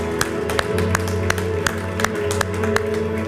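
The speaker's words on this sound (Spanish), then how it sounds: "Vamos a darle un aplauso a Cristo," A church congregation claps in a steady rhythm over sustained music, the sharp claps evenly spaced and fairly loud.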